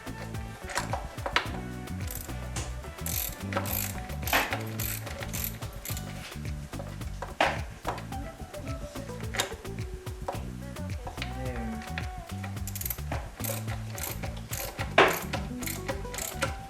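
A hand ratchet clicks in quick bursts as it tightens bolts on a Nissan Sentra engine, with rapid pawl ticks and brief pauses between strokes, close and clear.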